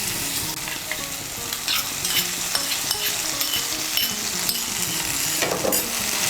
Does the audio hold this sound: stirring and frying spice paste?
yes